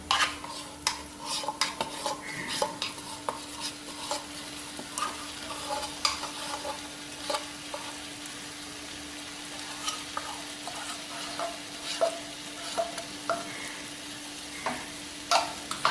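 Milkmaid mixture is stirred in a pan for a Swiss roll filling, with a soft sizzle and a steady hum beneath frequent sharp clinks and scrapes of a spoon against the metal pan. No one speaks.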